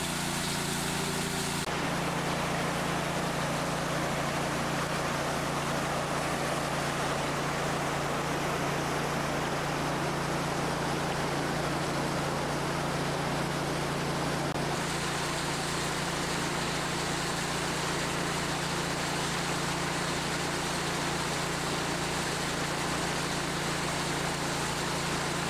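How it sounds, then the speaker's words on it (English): A 12-volt highbanker trommel runs steadily off extension cords from an engine-driven pump by a stream during a November gold-mining session, giving a constant broadband mechanical hum and wash throughout, with no talking. "The trommel is now running off the extension cords, which run all the way down to the engine and pump battery down there."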